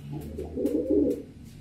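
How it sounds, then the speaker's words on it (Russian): Pigeons, a common grey pigeon and a black dove, coo on a balcony in a soft, low, continuous murmur that swells in the middle and fades, with no talking. "А за окном там голуби летают вовсю."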